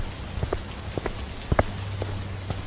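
Rain pours steadily in a 2D animated moral story, a soft continuous hiss with scattered drip-like taps and a low hum underneath, fairly faint throughout.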